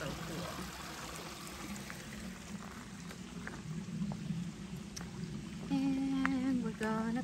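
Creek water runs out from under a tree as a steady, close trickle and splash that goes on throughout, with a voice briefly audible near the end.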